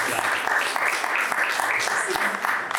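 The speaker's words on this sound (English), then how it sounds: "Yeah, round of applause, that's what I'm talking" Business owners in the room at a Black business financial literacy expo break into applause, a brisk, full burst of clapping with a faint voice or two underneath.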